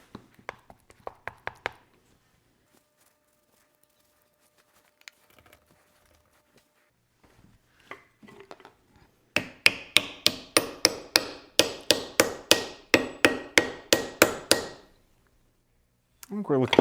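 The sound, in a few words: hammering a wedge into an axe handle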